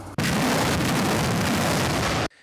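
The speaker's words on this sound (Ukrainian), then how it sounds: "Ці звуки змішуються навколо бахмуту. Канонада така, що іноді важко розібратися, коли стріляють росіяни, а коли наше військо накриває окупантів." Sustained loud artillery fire and explosions near Bakhmut in wartime, a dense continuous roar of heavy booms that starts abruptly and cuts off after about two seconds, with no voices.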